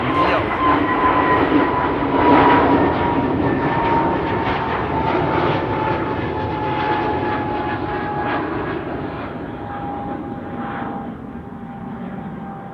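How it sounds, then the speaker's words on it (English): A KLM Airbus A321neo takes off at Amsterdam Schiphol Airport, its engines giving a loud sustained roar with a steady whining tone that slowly fades as it climbs away. "Another KLM A321 Neo."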